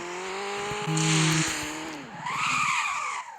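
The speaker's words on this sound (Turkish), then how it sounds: "Ama yeni aracımız burada. Hızlanışa bakın." A McLaren in a driving video game revs hard and accelerates with squealing, skidding tires, engine tones rising and falling over about three seconds and heard up close with no talk.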